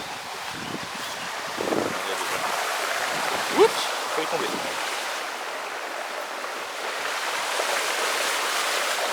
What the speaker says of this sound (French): Attends, vous allez voir la petite cascade, je vous montre un peu.